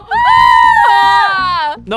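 Screech, a monster in the Roblox game Doors, gives a loud sustained shrieking wail with wavering pitch lasting nearly two seconds, close and piercing.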